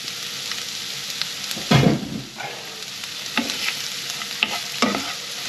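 Chopped onions fry in warm olive oil in a pan, giving an even close sizzle broken by a few louder stirring scrapes and clinks of a utensil.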